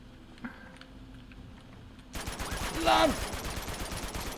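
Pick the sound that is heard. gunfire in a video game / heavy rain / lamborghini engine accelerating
gunfire in a video game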